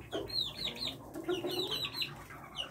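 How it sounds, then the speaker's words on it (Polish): Young chicks pecking grain in a coop make soft, repeated high clucks and cheeps in quick little bursts, close by and fairly quiet, with light scratching underneath. "Kurczaczki sobie jedzą ziarnka."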